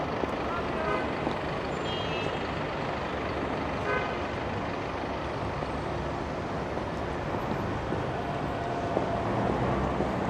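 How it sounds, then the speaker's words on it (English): Rush hour gridlock on Yonge Street in downtown Toronto: a steady, dense roadway rumble of idling and crawling cars and trucks, with faint reversing beeps and an occasional horn toot in the mix, unbroken for the whole stretch. "Already seeing the rush hour gridlock in action here."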